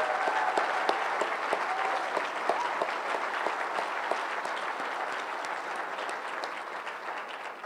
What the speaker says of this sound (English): So a round of applause for the Pritzker Endowment, Mr. Tony Pritzker